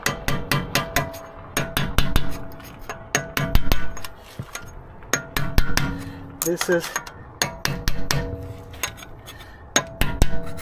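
Repeated sharp metallic hammer strikes tapping around a wheel bearing cap on a Mercedes-Benz W212 E250 4matic front hub, quick bursts of ringing blows with brief pauses, close and loud, with a few spoken words in between.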